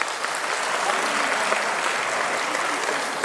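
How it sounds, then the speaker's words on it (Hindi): Loud, dense applause from an audience at a Yadav community gathering in Chhattisgarh, sustained and steady throughout without a break. "बने ताली बजाओ जोरदार एक बार।"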